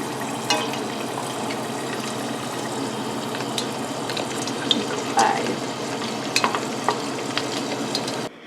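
Sun-dried beef sizzles steadily as it fries in oil, with a constant close hiss broken by scattered sharp pops and spatters throughout.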